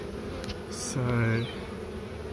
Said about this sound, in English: We've still got bees clustering on there, and we've got the bees up here.